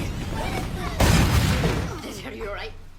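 A grenade blast in an action film bursts suddenly into a loud, broad roar that rumbles and decays over a couple of seconds, followed by quieter debris and movement sounds.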